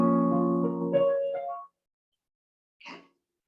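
Piano notes ring out as an arpeggio spanning a full octave, then sustain and decay into silence, followed by a brief faint sound.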